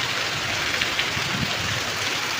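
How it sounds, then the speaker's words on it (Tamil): Heavy rain during Cyclone Fengal pours down as a steady, dense hiss with no breaks, loud and close, with faint low rumbles underneath. "ரொம்ப மழை போயிட்டுருக்கு"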